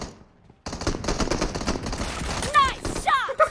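Rapid gunfire bursts crack and rattle in a team deathmatch video game on a library map, loud and near after a brief quiet start, while players talk excitedly over the shots.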